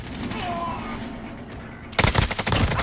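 Rapid gunfire bursts from the Call of Duty Modern Warfare video game, a dense, loud rattle of shots that breaks in abruptly after a quieter stretch of game ambience.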